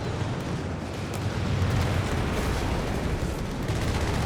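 Continuous dense battle din from Company of Heroes 3, with 76mm guns firing and shells striking a tank's armor, blending into a loud, sustained rumble of booms and impacts with no clear gaps.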